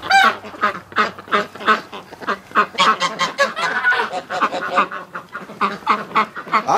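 Ducks and geese wintering in a barn on a freezing morning, loud repeated honks and quacks overlapping in a busy, uneven chorus close to the microphone.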